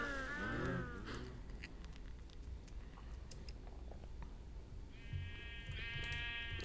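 Minecraft sheep bleating, a wavering bleat at the start and two more overlapping bleats near the end, fairly quiet over a faint steady game background.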